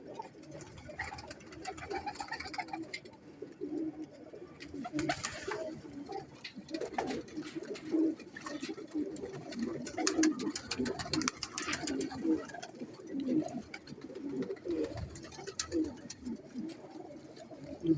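Soft Teddy pigeon coos repeat steadily over a busy background hum, with faint chirps and occasional rustling nearby.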